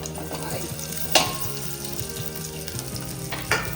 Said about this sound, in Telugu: గ్రేవీకి తీసి పెట్టుకున్న ఉల్లిపాయలు ఫ్రై చేసుకోవాలి.